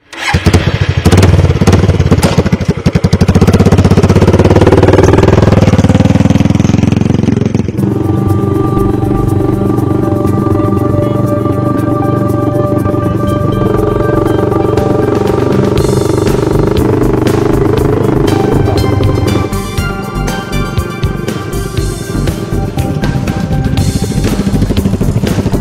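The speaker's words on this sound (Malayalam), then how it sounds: "കാണാൻ മാത്രമല്ല ഓടിക്കാനും കഴിയും ഈ ബൈക്ക്" A motorcycle built from scrap materials starts with a loud burst of sputtering revs, then settles into a steady, close idling chug that dips slightly toward the end.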